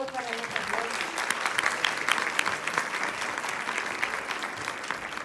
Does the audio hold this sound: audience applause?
yes